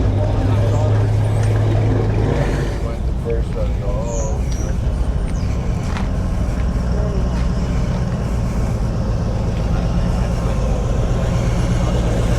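A loud, steady engine rumble of a passing boat with water and background noise, and a voice briefly heard over it.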